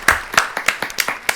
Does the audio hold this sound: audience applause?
yes